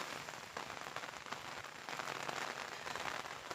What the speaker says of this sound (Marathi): आज पाऊस खूप आहे